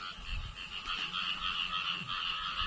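Frogs chorus in a rice field after a whole night of rain, a dense, continuous croaking that sounds loud and close, with no voices present.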